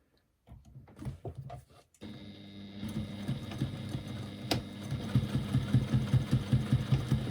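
A sewing machine stitches a bag seam in short starts, then settles into a steady, close, rhythmic mechanical chatter that keeps running, with a sharp click partway through and no speech.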